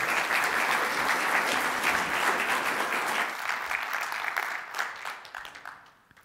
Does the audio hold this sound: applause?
yes